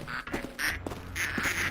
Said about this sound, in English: That does make it easier to haul ducks around.